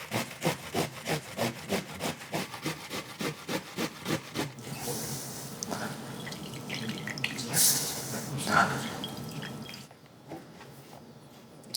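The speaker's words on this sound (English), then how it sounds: "I'm gonna grate my onions right on the towel so I can squeeze the juice later." Onions are grated on a hand grater directly onto a kitchen towel. About a dozen steady rhythmic rasping strokes are close and clear, followed by softer scraping and rubbing with light handling noise.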